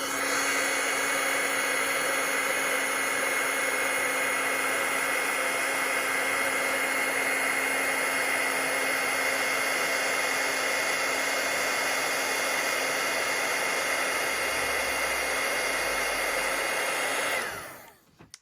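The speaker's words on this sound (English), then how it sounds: "I'm just going to heat this up with the heat tool." Embossing heat tool blowing hot air for card making, a steady loud fan-like roar with a constant whine holding for about seventeen seconds, then cutting off abruptly, no voices.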